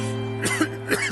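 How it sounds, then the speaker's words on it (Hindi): A person coughs in a few short, harsh bursts close to the mic, over a steady low hum; no one speaks during it. "आपकी खांसी की बात कर रहे हैं"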